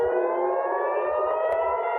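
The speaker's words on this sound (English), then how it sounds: "In Israel, sirens blared throughout the day, a warning to residents to run for shelter." A sustained air-raid warning siren in Israel wails steadily throughout, loud and unbroken, its tone holding level with faint low rumbles beneath.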